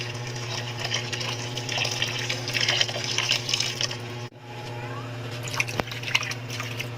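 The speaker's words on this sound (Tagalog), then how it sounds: "So, bubuhusan ko lang ito na tubig mainit." Hot water is poured over takal fish in a sink to strip away its fishy smell, giving a continuous close splashing stream with scattered drips over a low steady hum.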